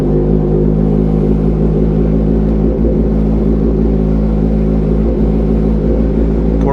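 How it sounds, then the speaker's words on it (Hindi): A Kawasaki Ninja 1000 fitted with an Austin Racing full exhaust idles loud and steady after a cold start, with a deep, continuous rumble and no talk over it. "थोड़ी आवाज़ सुनाता हूँ गाड़ी की।"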